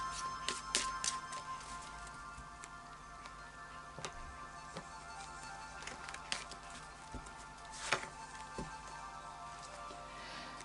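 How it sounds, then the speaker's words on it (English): Oracle of Visions cards shuffled by hand, faint papery ticks and occasional sharper snaps scattered irregularly across a quiet room, close and soft, with no talking. "And then a final shuffle of the Oracle of Visions."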